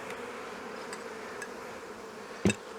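Bees buzz around nucs in a beeyard as a low, steady hum just under the noise, with a few faint ticks and one short louder knock near the end.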